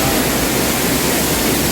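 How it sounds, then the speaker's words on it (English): A waterfall pours with a dense, even roar of rushing water, loud and unbroken for the whole moment. "that's the second waterfall I talk about"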